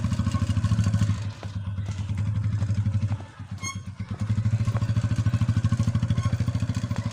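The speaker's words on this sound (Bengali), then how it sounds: "বর বাইকটা স্টার্ট করে নিই" A motorbike engine runs close by with an even, thumping putter that dips briefly midway, then picks back up to a steady rhythm.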